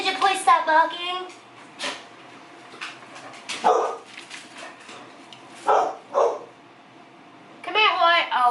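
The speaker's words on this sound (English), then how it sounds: "you please stop barking?" A nearby dog barks repeatedly in separate bursts, loud and sharp, with short pauses between them and no other sounds in the gaps.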